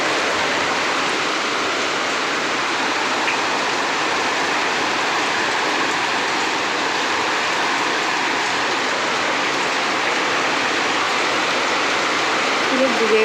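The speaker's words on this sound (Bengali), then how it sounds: "কি বৃষ্টি হচ্ছে, তোমাদের ওখানে কেমন বৃষ্টি হচ্ছে বলো।" Heavy monsoon rain pours down steadily beside a flooded pond and a house near the window, a dense continuous hiss at constant loud level throughout, without any talking.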